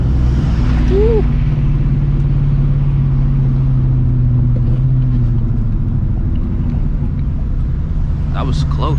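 A New Edge Ford Mustang GT V8 rumbles loudly from inside the cabin while driving, with steady low engine drone, a brief rev rise and speech over it.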